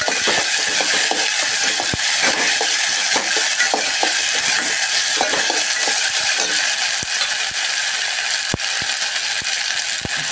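Chopped tomatoes sauté in a pan with a constant loud sizzle, while sharp clicks and scrapes of stirring cut through the frying hiss throughout.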